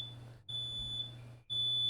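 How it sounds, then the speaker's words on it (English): A smoke alarm emits a sustained high-pitched electronic beep, broken by two brief gaps so the tone restarts twice, steady and fairly loud with no talking. "that's my fire alarm."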